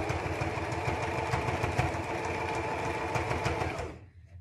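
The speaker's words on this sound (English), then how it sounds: "Get all that fabric down flat before you sew over it." Sewing machine stitching fabric for a child's hat, a fast steady mechanical whir with rapid needle ticking that runs loud and even for about four seconds, then stops abruptly.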